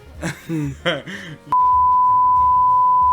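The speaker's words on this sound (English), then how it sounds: "You gotta bleep that out." A loud, steady censor bleep tone cuts in abruptly right after a voice and holds to the end without a break.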